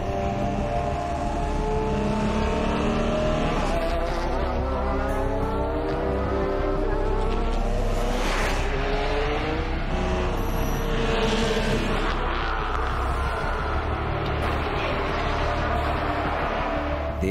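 Audi R18 and Peugeot prototype race cars at Le Mans, engines roaring steadily and loudly throughout with passing swells, under a busy trackside mix.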